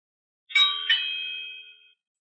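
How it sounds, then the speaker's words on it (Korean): A doorbell at a front door sounds once, a bright two-tone ding-dong whose chime rings out clearly in a quiet room and fades over about a second and a half. "다시 또 현관으로부터 벨소리가 들려오고 있었다"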